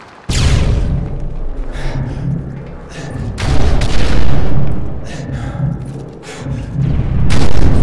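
A Predator missile explosion in Call of Duty MW3, made of heavy rumbling booms and repeated blasts layered with scattered gunfire, loud and sustained across several seconds.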